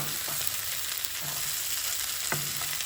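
Beef fries in a hot pan with a steady, close crackling sizzle, broken by a few soft scraping strokes of stirring; no one speaks.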